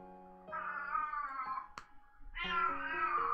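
A cat meows twice, long drawn-out wavering cries close and fairly loud, separated by a short pause with a faint click between them.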